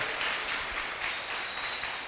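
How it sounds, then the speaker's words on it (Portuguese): A church congregation applauds during an Easter resurrection sermon: a soft, even wash of clapping from a distance, faint and steady for a couple of seconds with no talk over it. "Se você quiser bater uma salva de palmas para Jesus, porque ele ressuscitou"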